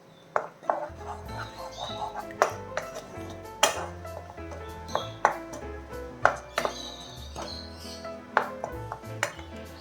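Sliced bitter gourd stirred in a pan on medium flame: a spatula scrapes and clinks against metal in irregular sharp strikes over a low hum, close and moderately loud, with no talking.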